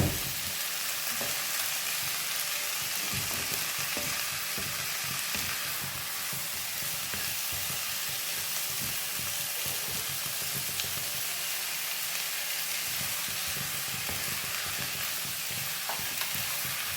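Chicken sizzles and fries in masala in a pan for a potato and cassava chicken curry, a steady close hiss with occasional stirring scrapes and no voices.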